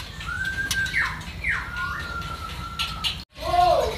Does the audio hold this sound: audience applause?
no